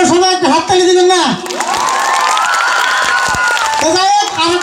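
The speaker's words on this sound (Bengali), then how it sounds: "সবাই একটা হাততালি দিবেন না" An audience at an outdoor comedy and song show on a cold night breaks into a loud burst of clapping, cheering and whoops lasting a couple of seconds, with someone speaking just before and after.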